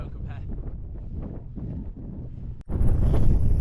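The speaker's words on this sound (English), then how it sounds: "The wind at the moment is absolutely horrendous. It's a crosswind as well." A strong crosswind buffets a cyclist riding toward Tan Hill, a heavy low rumbling roar of wind on the microphone that surges after a brief dropout and stays loud and continuous.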